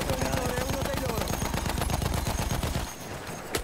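Machine gun in the Battlefield 1 video game fires a rapid, even stream of loud, close shots for nearly three seconds, then breaks off, and a single shot follows at the end.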